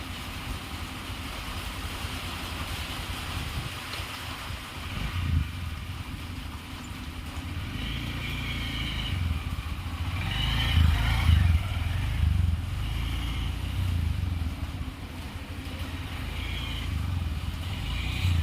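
A small beginner motorcycle rides and maneuvers around a tennis court, its engine giving a steady low drone with revving swells and some clatter, rising loudest midway as it passes close, with no talking.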